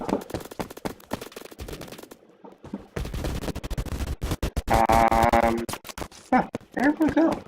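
Rapid bursts of submachine-gun fire from a Sten or grease gun in the video game Phantom Forces crackle loud and close in short strings, with a gap and a sustained tone partway through.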